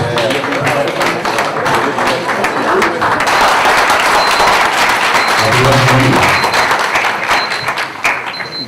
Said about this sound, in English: another round of applause for Cornel West and Morgan Freeman